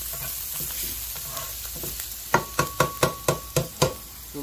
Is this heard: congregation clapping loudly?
no